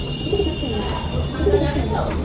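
A soft female pigeon coos close by in a couple of low, brief calls over a faint steady background hum.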